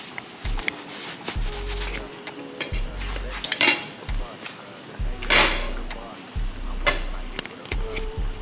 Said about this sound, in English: So now we're about to go ahead and add the sausage